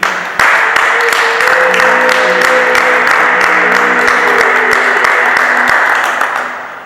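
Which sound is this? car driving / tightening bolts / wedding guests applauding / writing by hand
wedding guests applauding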